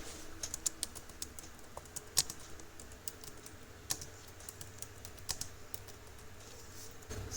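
Quick, light clicks of a computer keyboard as a file name is typed, irregular bursts of keystrokes close up over a quiet background.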